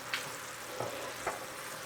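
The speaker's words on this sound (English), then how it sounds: "Now look, our syrup is boiling." Sugar syrup for almond barfi boiling in a pan on the stove, a steady faint sizzling bubble with a few soft pops, close by and quiet, no voices.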